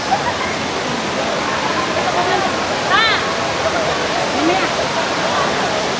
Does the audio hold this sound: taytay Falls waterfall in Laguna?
yes